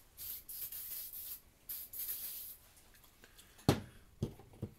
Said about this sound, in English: What I'm going to actually do is just spray in here liberally.